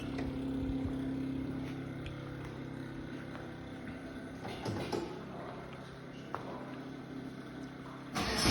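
A B16 engine is cranked on a cold start with its ignition deliberately disabled, producing a continuous churning mechanical drone for about eight seconds, close and fairly loud, with a sharp surge at the end.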